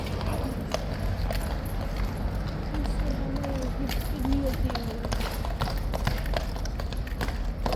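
Horse hooves clip-clopping on pavement near the Horse Guards, steady overlapping clops under crowd chatter and voices talking nearby.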